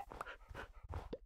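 A wolf, the tameable dog mob in the video game Minecraft, makes faint panting and whimpering sounds over quiet game background noise.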